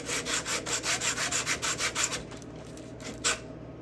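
Sandpaper rubbed back and forth on both sides of a hand-sawn kerf in wood, a steady rhythm of about a dozen close, even scratchy strokes that slow and then stop, followed by a couple of lighter scuffs.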